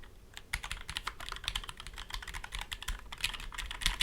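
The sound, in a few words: typing on lubed keyboard with GMK Calm Depths keycaps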